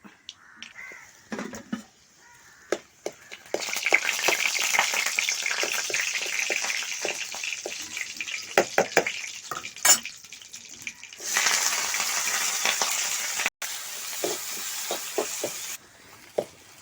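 Shallots, garlic, ginger and green chili fry in a pan for a spicy crab fry, giving a steady sizzle broken by sharp scraping stirs and a few gaps, loud and close.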